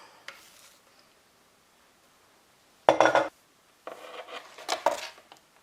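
A spatula scrapes thin jelly roll batter from a bowl in a few short, scratchy bursts with clinks of the bowl. Quiet pauses fall between the strokes.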